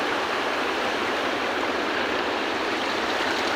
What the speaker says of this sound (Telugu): వరద చూడండి.